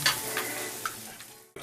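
Pork belly sizzling on a grill at a Korean barbecue restaurant, a steady close crackle and hiss that fades slightly before a brief cut near the end.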